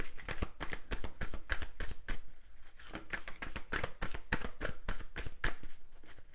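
Tarot cards are shuffled in a steady, close, rapid run of riffling snaps and flicks that continues throughout with no talking over it.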